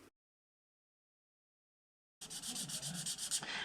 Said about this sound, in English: I'm just going to color in the windows